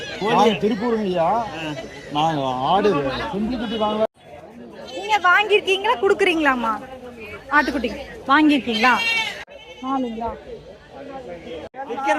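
Goats at a Kolathur goat market, with bleats mixed into dense nearby chatter and bargaining voices that run almost continuously.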